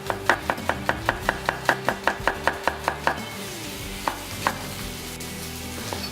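A knife slices red onions quite fine in a quick, even run of about fifteen crisp taps on a board over roughly three seconds, then a few scattered cuts follow, close up, with no voices.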